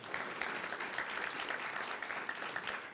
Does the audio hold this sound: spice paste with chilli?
no